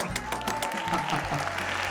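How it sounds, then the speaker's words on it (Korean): Students at a university department event clap for a speaker, a brief, fairly soft spatter of hands in a room, with a voice and low background murmur running underneath. "선배님 박수!"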